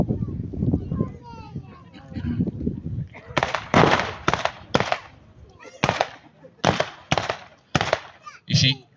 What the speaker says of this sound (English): Every time you hear that loud bang, that is a sniper firing.